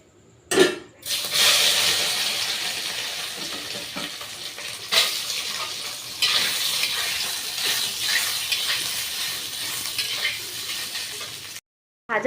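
Soybean chunks coated in chilli powder, turmeric and salt sizzle steadily in hot oil, with stirring and a few pan clatters; the frying continues throughout, close and fairly loud, with no talking.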